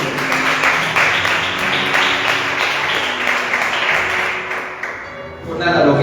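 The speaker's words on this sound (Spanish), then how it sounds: "¿Cuántos dan un fuerte aplauso a nosotros?" A church congregation gives a strong round of applause, continuous clapping filling the room under a faint background hum, easing slightly near the end before swelling again.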